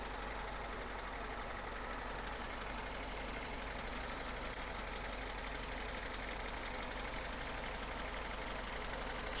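A 1977 Lada Niva (VAZ 2121) 4x4 engine idles in a shop, a steady, even mechanical hum that runs unchanged the whole time with no talking.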